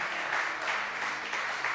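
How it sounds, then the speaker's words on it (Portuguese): A church congregation claps together in a sustained, dense burst of applause that carries through the whole moment, with no words spoken. "Quem crê nisso, aplaude ao Senhor bem forte"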